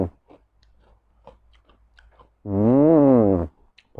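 Crispy baked purple sweet potato chips crunched between the teeth in faint, scattered close-up clicks, then a voice hums a long, drawn-out note of enjoyment.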